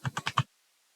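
Four quick keystrokes tapped on a computer keyboard while entering a text file name, crisp and close, followed by silence with no talking.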